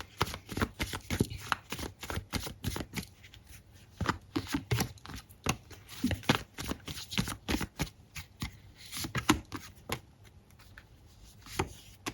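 Tarot cards shuffled steadily for an Aquarius reading, making a long run of quick, crisp papery taps and riffles, close up and fairly soft, with no talk.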